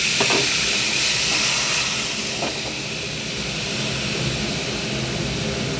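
A splash of water hits hot Kashmiri chilli powder, coriander powder and ginger paste in a pan, giving a loud, continuous sizzling hiss of steam that carries on steadily throughout.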